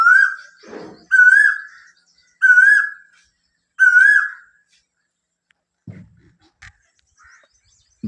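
An Asian koel calls in a rural village after rain, giving four loud, clear rising whistles in a steady rhythm, followed by a few faint knocks and rustles.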